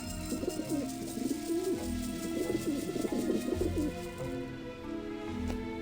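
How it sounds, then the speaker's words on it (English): Pigeons coo and flutter in the Grim Fandango video game as birds eat bread, a steady cluster of soft cooing calls over a low ambient music bed, moderately quiet with no talk. "Birds eat the bread."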